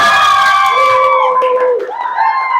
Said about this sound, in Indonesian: Beri tepuk tangan ya guys ke paslon 1 kita.